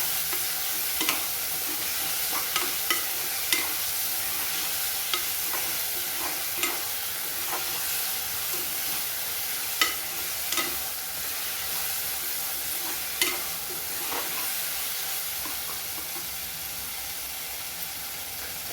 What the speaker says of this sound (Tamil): தக்காளி போட்டுக்கிறேன். தக்காளி நல்லா வதங்கட்டும்.